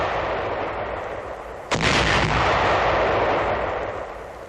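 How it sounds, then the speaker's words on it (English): Anti-personnel shoe mines laid in rows in a cleared minefield in 1945 are detonated four at once, giving one sharp, heavy blast that decays into a rumble over steady hiss, at a moderate distance. "These anti-personnel shoe mines are exploded 4 at a time."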